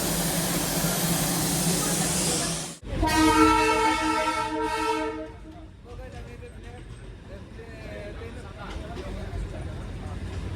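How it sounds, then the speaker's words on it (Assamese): Darjeeling toy train on its ride: a loud sustained horn blast cuts in over a steady rumble of running carriages, then the rolling clatter carries on at a moderate level. "আমি ট্ৰেইনত উঠিছোঁ এতিয়া আমি গৈ আছোঁ, আৰম্ভ হৈছে"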